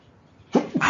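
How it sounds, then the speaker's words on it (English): A man lecturing on EKG basics lets out one sudden, close sneeze in two quick bursts, loud and abrupt after a quiet room. "I'm going to sneeze"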